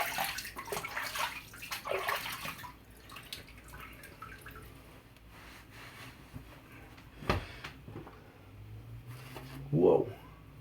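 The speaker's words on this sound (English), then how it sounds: "Excuse me while I do a little head rinse here." A shaved head being rinsed with water, with splashing and trickling loudest in the first few seconds, then quieter drips and a brief louder splash near the end.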